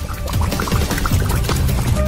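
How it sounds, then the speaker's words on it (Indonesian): A drink being poured into a glass for a chocolate food challenge, a loud continuous splashing stream lasting about two seconds with no voices. "Kita tuangkan minuman kami ke dalam gelas"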